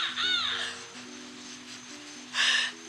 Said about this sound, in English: every 30 seconds for like about a minute, it will still crow